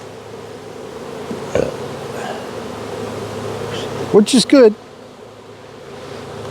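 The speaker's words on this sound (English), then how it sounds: "they've got a few thousand bees here on the inside of the box, on the outside of the box." Honey bees hum steadily throughout an April hive inspection, with thousands of insects on and around the box. Someone speaks briefly over the drone, and a few louder buzzing passes come close near the end.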